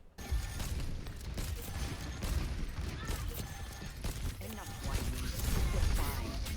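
Overwatch 2 gunfire from hip firing, a loud continuous run of shots and impacts amid match noise, with voices talking over the action.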